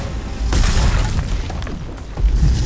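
Hulk smashes cell locking mechanisms in Marvel's Avengers, a loud booming impact with crashing, shattering debris, followed by a second heavy thud near the end.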